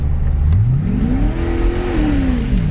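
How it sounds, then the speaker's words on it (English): A turbocharged 2000 Chevrolet Corvette engine revs loudly nearby, its pitch rising steadily, holding, then dropping slightly as the tires spin, with a steady rumble underneath and no talking. "spun the tires hard"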